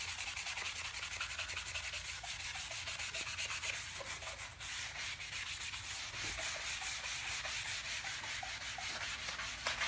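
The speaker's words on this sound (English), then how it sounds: "I'm just going to do a little fine hand sanding" Fine hand sanding of a wooden front door's existing finish makes a steady, close scratchy rubbing with quick back-and-forth strokes that continue without pause, and no talk.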